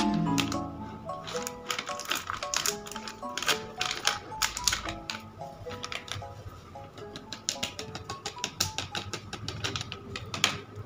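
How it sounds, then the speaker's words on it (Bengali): Dry cake ingredients, including milk powder, are sifted through a sieve for a double decker cake, producing rapid, irregular light tapping and rattling clicks close by, with background music underneath. "শুকনো উপকরণগুলো আমি খুব ভালো করে চেলে নিচ্ছি।"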